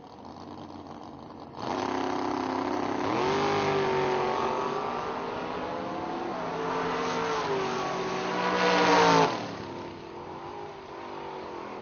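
Drag racing cars, a Chevrolet S10 and a 1968 Mustang Fastback, roar loudly and steadily from about two seconds in, engines rising in pitch as they accelerate and swelling to a peak near nine seconds before dropping away.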